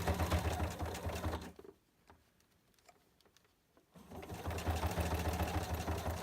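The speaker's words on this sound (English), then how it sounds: "I just stitch right on the very edge of the fold of the binding." A sewing machine top-stitches along the folded edge of vinyl binding in a quiet, even whir, pausing for about two seconds mid-run before starting up again.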